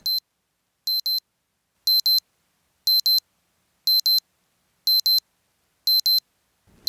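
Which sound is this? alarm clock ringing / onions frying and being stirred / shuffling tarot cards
alarm clock ringing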